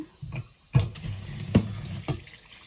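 Water from a kitchen tap splashes in uneven bursts while something is rinsed under it, several distinct splashes over a quieter running stream, close by with no talk.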